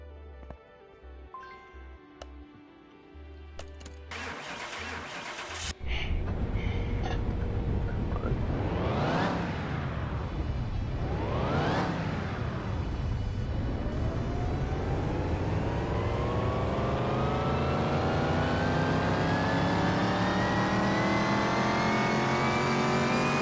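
A car engine idles on a dyno, blips twice with rising and falling revs, then winds up in one long sustained pull to high revs, loud and close.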